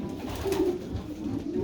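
White pigeons on a farm coo in a low, steady murmur close by, over constant background noise with no voices.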